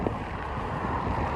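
Gusting wind ahead of an approaching storm on a coastal heritage trail, a steady broad roar buffeting the microphone with no pauses.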